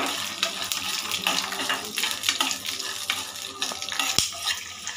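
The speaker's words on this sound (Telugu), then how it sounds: "పల్లీలు చూడండి ఇలా బాగా ఫ్రై చేసుకోవాలి." Peanuts and green chillies frying in hot oil on a low flame, with a steady dense crackle and sizzle throughout, occasional stirring scrapes and one sharp clack near the end.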